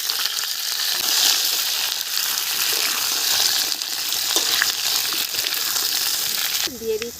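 Potatoes dropped into hot oil tempered with dried red chillies, cumin and bay leaves for a vegetarian potato curry, giving a loud, dense, steady frying hiss with a brief clunk and splash near the end.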